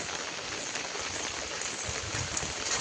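Steady rain falls in a Konkan village during the first rain of the season, a continuous even hiss of drops on surfaces with no voices.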